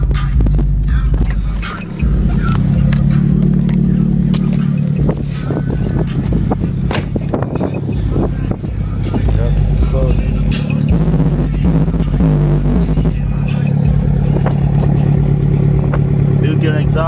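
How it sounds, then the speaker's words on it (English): Car engine with a high-performance eBay aftermarket exhaust, likely on a Nissan 240SX, rumbling and throbbing steadily up close, with repeated revs and clattering bursts over a deep continuous drone. "Built-in exhaust sounds really nice."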